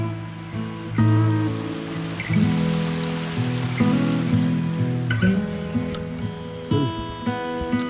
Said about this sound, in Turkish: Barajı besleyen